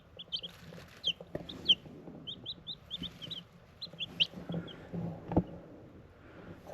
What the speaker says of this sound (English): 2 black copper Marans and 2 Cockins. So here they are in the brooder under the heat lamp.